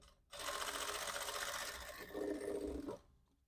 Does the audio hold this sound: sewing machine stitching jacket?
yes